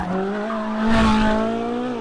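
A high-revving 605-horsepower Ferrari V8 roars loudly past, its pitch holding steady and swelling briefly as the car passes close by.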